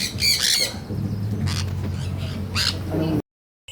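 Harsh squawks from birds in an aviary ring out repeatedly over a low steady hum, several sharp calls in a row before the sound cuts off.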